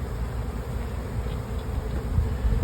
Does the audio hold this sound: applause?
no